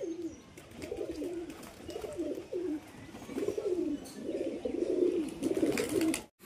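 Domestic pigeons cooing in a loft, several birds producing repeated low, throaty rolling coos in overlapping bursts throughout, close and fairly loud with no talking.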